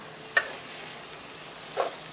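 Isan-style noodles with pork being stir-fried in a wok: two brief scraping tosses over a faint, steady sizzle, quiet and close, with no voices.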